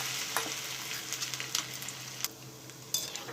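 Singhara flour pakoras with potato pieces frying in hot oil, a steady soft sizzle with scattered crackles and pops, close and alone.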